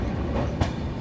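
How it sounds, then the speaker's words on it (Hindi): Trains roll slowly past a rail underpass construction site in India, a dense steady rumble of wheels and cars with a single clack partway through, loud and close with no talk. "दोनों ही ट्रेन एकदम स्लो स्लो निकल रही है"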